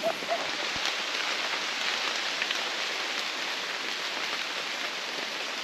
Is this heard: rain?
yes